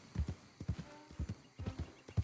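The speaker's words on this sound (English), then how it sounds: "I do not mind just riding my horse around in the open world for hours on it." Horse hoofbeats clip-clop at a steady riding gait in Red Dead Redemption 2's open world, clear rhythmic thuds in quick pairs, fairly quiet with no speech over them.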